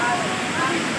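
Secret Falls waterfall in Dona Remedios Trinidad, Bulacan, gives a steady, broadband rushing roar that stays loud and unbroken for the whole second, with no pauses or gaps.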